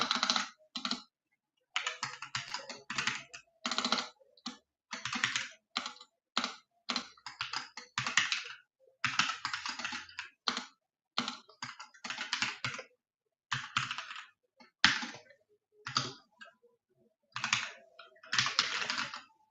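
Fast bursts of typing on a computer keyboard while someone writes code, clustered key clicks in uneven runs with short pauses, close and clear with no voice.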